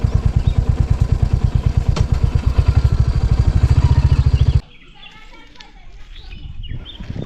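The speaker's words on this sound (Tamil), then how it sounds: "ஏன்னா வித்தியாசமாக ஒரு வண்டி சவுண்டில் கேட்குதுன்னு" An unusual-sounding vehicle engine thumps with a fast, regular, loud pulsing beat nearby for about four and a half seconds, then cuts out, leaving quieter background noise and faint activity.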